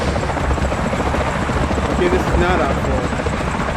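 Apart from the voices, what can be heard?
helicopter intro from the video game Island 359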